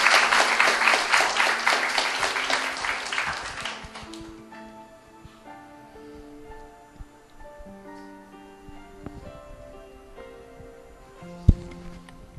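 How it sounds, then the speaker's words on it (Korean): An audience at a seaside youth camp event applauds to welcome a student, with lively clapping for about four seconds that then fades, followed by soft piano-like music notes and a single sharp knock near the end. "박수로 맞아주시기 바랍니다."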